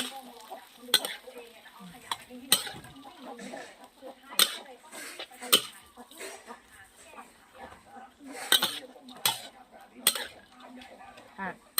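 Crickets frying in a pan while being stirred, with repeated sharp scraping and clinking strikes of a utensil against the pan at irregular intervals over a soft sizzle, with someone speaking between them.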